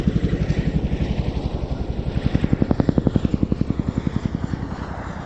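A Chinook helicopter flying a display at the RAF Cosford air show, its loud, rapid rotor thump pulsing steadily and swelling as it passes nearer, with a constant engine whine beneath.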